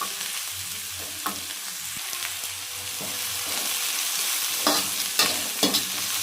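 Chopped tomato fries in a pan for Davangere-style mandakki, a steady sizzle broken by several scraping stirs of a spoon, close and moderately loud with no talking.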